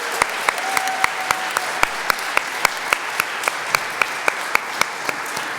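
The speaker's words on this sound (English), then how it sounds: "Big round of applause." Audience applause at a college debate event honoring visiting Morehouse debaters, a dense, steady patter of clapping with a few sharp individual claps standing out, sustained at even loudness throughout.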